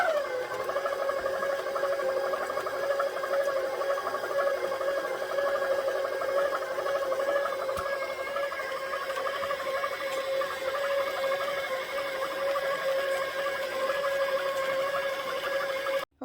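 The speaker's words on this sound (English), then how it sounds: "So let's try and put it in the stand mixer. Okay, so let's start mixing it." A stand mixer churns tocino meat in a continuous steady motor whir with a stable pitched tone, close and fairly loud throughout, cutting off abruptly at the end, no voices.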